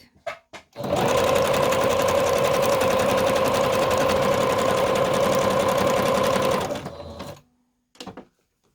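A sewing machine running a straight stitch in lighter thread across a fabric collage sheet, a steady fast mechanical whir lasting about six seconds, with brief handling clicks before and after.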